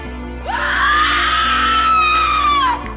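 A woman in a horror film screams at full volume, one long sustained high shriek that swells after a brief rise and holds for over two seconds before breaking off abruptly.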